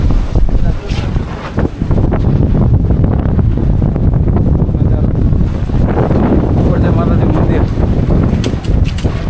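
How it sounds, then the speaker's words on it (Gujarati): At the hilltop Mahakali Temple at Pavagadh, strong wind roars loudly and continuously across the microphone in a heavy, blustery rumble, with people talking underneath. "પવન જો કેટલો પવન જો"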